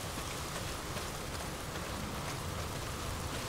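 Heavy rain pours down steadily in the video game Days Gone, a dense, continuous hiss with no break or voices.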